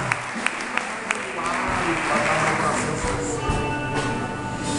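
A church congregation claps during a worship service, starting with a few sharp single claps and swelling into sustained applause, with a preacher's voice running underneath.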